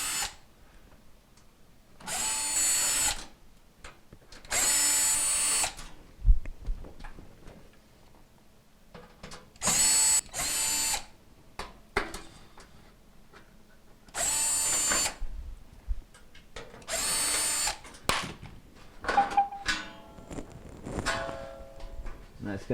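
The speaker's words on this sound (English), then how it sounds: "we're going to go ahead and remove the Phillips screws around the back panel here" A power drill backs out Phillips screws from the rear panel of a KitchenAid oven, sounding in several whirring bursts of a few seconds each, with small clicks, handling noise and brief talk between them.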